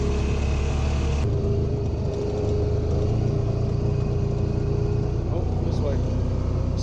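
A Honda car's engine running steadily while driving, a loud continuous low rumble and road noise throughout, with a slight shift in tone partway through and some voices faintly mixed in.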